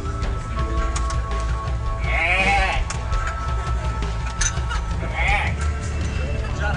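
Two separate bleats, one after the other, from a goat in the video game Gothic rise above a busy game soundscape while people talk over it.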